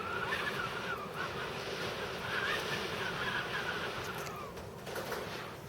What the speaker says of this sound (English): Come on, wind, blow for me.